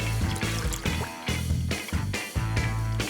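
Whole milk pours into a pot for shrimp and grits in a restaurant kitchen, a steady trickling stream over background music, with brief surges across about three seconds.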